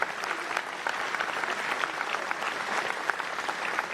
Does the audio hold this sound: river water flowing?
no